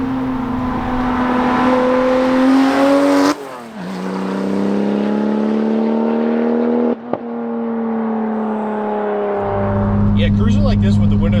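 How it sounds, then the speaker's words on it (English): Cruising in a straight-piped Porsche 911 Turbo, the exhaust booms loud and steady from the cabin, with gear shifts dropping the engine tone twice before it climbs again. "cruising like this with the windows down, I'm totally fine with this exhaust"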